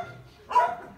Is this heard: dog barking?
yes